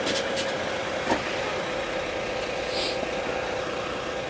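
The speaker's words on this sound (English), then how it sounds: "And the lorry's been told to wait" A lorry engine idles at the gate of Beddington water treatment works, a steady low rumble with a constant hum, close and continuous throughout, with one brief knock partway through.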